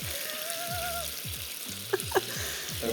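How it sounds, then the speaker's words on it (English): Beef sizzles loudly on a hot plate at home, a constant close hiss and crackle with a few sharper pops, under soft clinks. "Sizzling beef at home."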